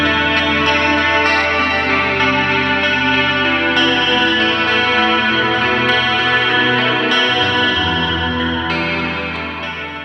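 An electric guitar plays sustained, shimmering chords through a Line 6 Helix with cab simulation, chorus and two delays, the repeats washing together loudly before the sound fades slightly at the end.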